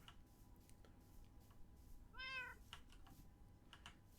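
A cat in Minecraft lets out a single short meow, faint against a quiet background with a few soft ticks.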